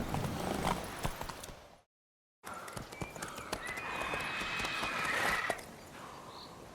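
Roach, a horse in The Witcher 3, gallops with steady clip-clop hoofbeats, then a whinnying neigh rises over the hooves after a brief silent gap.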